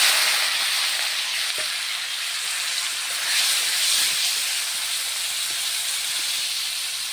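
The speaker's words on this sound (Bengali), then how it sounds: "সুন্দরভাবে মাছগুলোকে ভেজে নেব।" Fish coated in turmeric and salt frying in hot oil, a steady bright hiss and sizzle that holds evenly throughout, with a few faint pops and no voices.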